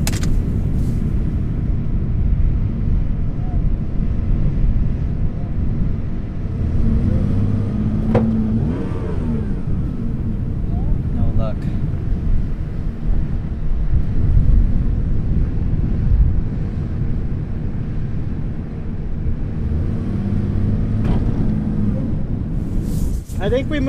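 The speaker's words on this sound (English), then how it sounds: "My parking brake's off and the truck's in reverse." A truck engine runs steadily in reverse while stuck in desert clay in the Mojave, a loud continuous low rumble with wind buffeting the microphone and voices speaking briefly over it.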